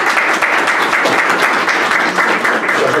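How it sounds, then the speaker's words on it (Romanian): Indoor audience at a talk and book presentation applauding the guests, a steady dense wash of many hands clapping for three seconds, close and loud with no speech. "haideți să-i aplaudăm pe invitații noștri"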